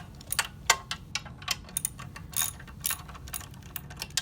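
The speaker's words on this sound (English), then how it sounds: "10mm socket with an extension, and this way you can go down here and loosen up all the screws" A ratchet with a 10mm socket on an extension loosens the four nuts holding a motor down beneath a machine during a belt replacement, giving quick bursts of close, crisp ratcheting clicks over a low steady hum.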